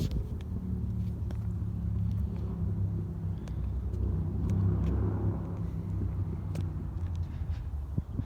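Trucks crossing a street near an old ATSF rail line in Colorado Springs, a steady low road rumble of passing heavy vehicles heard from a distance, swelling slightly midway, with no talking.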